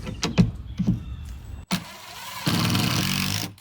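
A screw is driven into OSB sheathing with a power driver, giving a short whir after some taps and handling knocks, then a longer steady motor buzz near the end.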